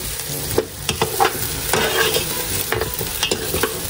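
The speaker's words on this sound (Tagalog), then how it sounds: "ito pong karne ay nasangkot siya na. Akin na pong hahaluin." Pork leg sautéing in a pot while being stirred, close sizzling with repeated scraping and clacking strokes of the spoon at an irregular rhythm, no talk.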